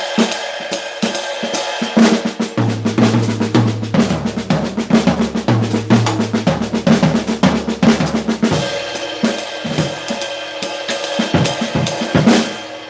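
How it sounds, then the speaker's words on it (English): Drum kit playing a swing beat with flam triplet fills, busy cymbal wash and snare hits throughout with bass tones in the middle, loud and close with no talking. "that triplet one could be used over some jazz rhythms. So if you're playing a swing beat around that tempo,"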